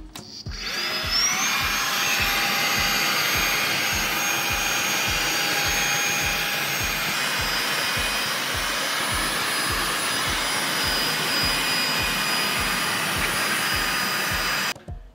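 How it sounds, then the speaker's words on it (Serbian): A vacuum cleaner sucks dust from the outdoor unit of an air conditioner, with a steady loud whine and roar running almost unbroken from start to finish, plus a faint rhythmic pulsing underneath. "Prvo ću usisati spoljni deo klime."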